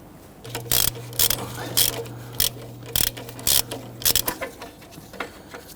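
A ratchet wrench loosens the upstream oxygen sensor on a 2011–2015 Kia Sorento 2.4L four-cylinder, reached through a metal heat shield; sharp clicking bursts come in short irregular runs over several seconds, close and fairly loud, with a low steady hum beneath.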